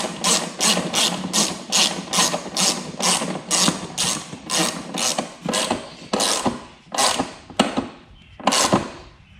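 A ratchet wrench tightening bolts on a Yamaha Zuma scooter, a close, loud run of rapid rhythmic clicking strokes, about a dozen bursts with brief pauses between them.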